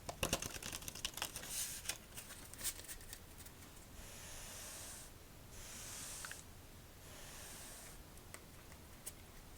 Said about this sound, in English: I think one more shuffle